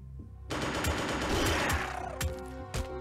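Gunfire in the tactical combat game Xenonauts 2: a rapid burst of loud shots rings out with rattling reports over about two seconds, then trails off into a few scattered later shots.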